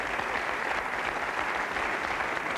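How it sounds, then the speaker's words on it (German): A theatre audience at a birthday party show claps steadily throughout, a dense, even wash of many hands at moderate distance with no talking on top. "Dein Applaus."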